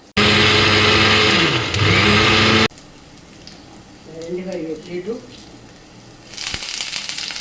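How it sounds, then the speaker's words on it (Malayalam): A mixer grinder whirs loudly and steadily as it grinds masala for egg curry, running for about two and a half seconds before stopping abruptly, followed by quieter kitchen sounds and a voice. "ഇത് മിക്സിയിൽ അടിക്കണം കേട്ടോ"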